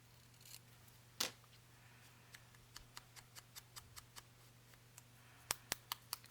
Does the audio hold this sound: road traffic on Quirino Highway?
no